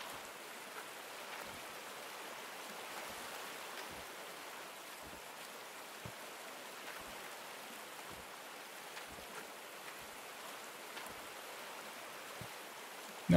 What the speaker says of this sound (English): Sure looks like there's plenty of water in this creek.